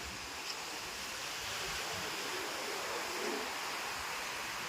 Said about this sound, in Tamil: இந்த கடல் அலையோட சவுண்டை கேட்டுக்கிட்டே இருக்கலாம்.